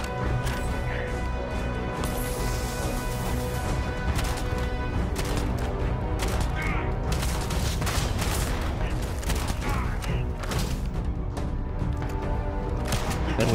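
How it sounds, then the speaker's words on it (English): Rapid gunfire from a gun in the video game Starfield, fired without aiming in dense sustained bursts with crashing impacts, loud and close, under a player's occasional talking. "this game or this gun is way easier to shoot without without aiming"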